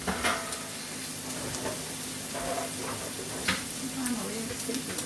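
Food sautés in a pan with a faint, steady sizzle, broken by a few clicks and stirring scrapes and a brief low murmur in the background.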